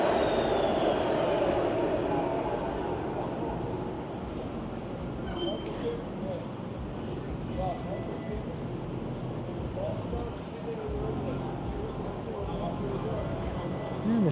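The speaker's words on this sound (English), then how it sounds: "The streetcar here runs all night long." Streetcar rolling along College Street at night through Little Italy, Toronto: a continuous low rumble of wheels on rails with faint metallic squeals, mixed into lively street noise and heard from the sidewalk at moderate distance.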